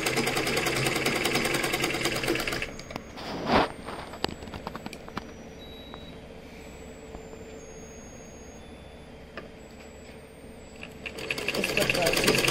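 A sewing machine stitches a folded binding strip around a square neckline, its rapid mechanical chatter loud at the start and end, easing off to a quieter run in the middle, close up with no talking.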